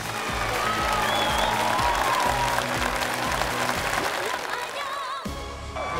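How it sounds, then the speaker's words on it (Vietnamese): A studio audience claps continuously through a live entertainment show, dense steady applause with crowd noise and faint voices mixed in, dipping briefly near the end. "Thằng bé kia vỗ tay mà vỗ tay thêm á"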